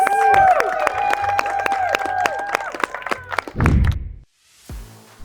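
Applause for bartenders at a mixology competition, clapping mixed with loud whoops and cheering voices, ending in a thump followed by a short quiet gap and brief muffled noise.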